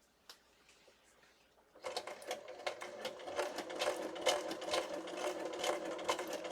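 A sewing machine stitches a journal cover while its foot pedal is pressed hard, starting after a quiet moment and then running in a fast, steady mechanical chatter, close and fairly loud.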